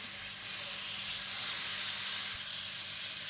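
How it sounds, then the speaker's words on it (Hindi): Butter heating in a pan for a burger sauce makes a soft, steady sizzling hiss, fairly faint, swelling slightly midway and then settling, with no voices. "सॉस बनाने के लिए आप मक्खन गर्म कर लीजिए"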